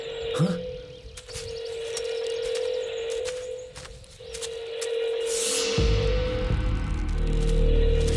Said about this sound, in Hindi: कहीं से फोन की आवाज आ रही है।